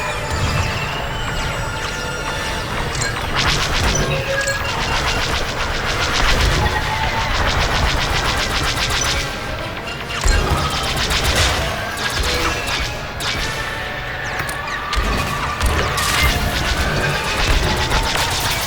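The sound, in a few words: missiles and gunfire in Star Wars Squadrons space combat video game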